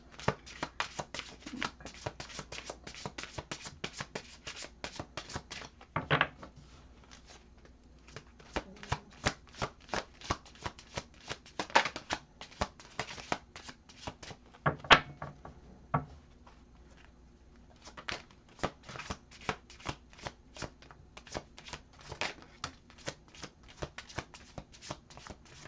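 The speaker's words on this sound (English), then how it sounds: "they're telling me to pull one more card for this dream" A deck of tarot cards shuffled by hand, quiet repeated riffling and flicking taps in uneven bursts with short pauses, close and alone with no talk.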